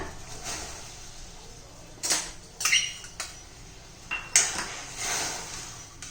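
Sabudana being stirred in a pot of boiling water for kheer: a spoon scrapes and clinks against the metal pot in several short, uneven strokes, close and fairly quiet.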